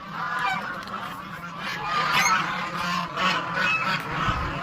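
Geese on a large poultry farm honk repeatedly in an overlapping, continuous chorus, moderately close with no talking.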